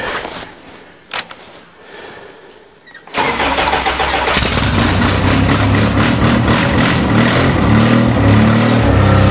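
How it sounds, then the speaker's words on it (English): A 1982 Toyota 22R motor in an old truck starts on a cold winter day near freezing. Quiet shuffling comes first, then the engine cranks and catches with a sudden loud rumble and keeps running, close and rough. "plus 2 degrees Celsius winter's day with the 1982 22R Toyota motor"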